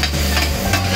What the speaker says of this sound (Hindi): देख लीजिए ये सॉटे कर रहा हूँ मैं